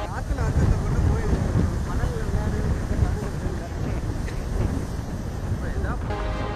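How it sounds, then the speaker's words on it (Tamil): Strong wind roars over rough, surging sea waves on a Puducherry beach, a loud, continuous, buffeting rush that fills the whole stretch. "புதுச்சேரியில் கடற்கரை பகுதிகளில் பலத்த காற்று வீசுவதால் கடலின் சீற்றம் அதிகமாக காணப்படுகிறது."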